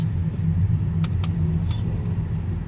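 Steady car traffic rolls past, a Mini Cooper and a BMW among the vehicles, a continuous low engine and road rumble holding level throughout with a few faint brief clicks on top.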